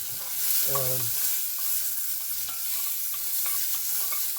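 Mushrooms sizzle and crackle steadily in a hot pan, with an occasional stir and a brief tonal squeak near the start.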